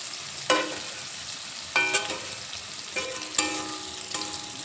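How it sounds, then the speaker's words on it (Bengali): Chopped onion given a brief, light fry and stirred in a pan for a cauliflower and egg dish, a low sizzle with about four distinct spatula scrapes spaced apart, nearby and free of speech. "পেঁয়াজ কুচি দিয়ে একটু নেড়ে চেড়ে নেব এই পেঁয়াজ বেশি ভাজবো না"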